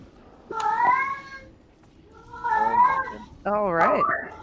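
Three drawn-out meows from a cat, each wavering and rising, separated by short pauses, fairly close and clear.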